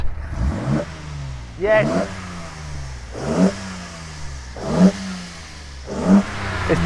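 Carbureted Nissan Z car engine heard from the front, blipped repeatedly in a steady rhythm, each rev rising sharply and then falling back to a lumpy idle, with a brief spoken word over it.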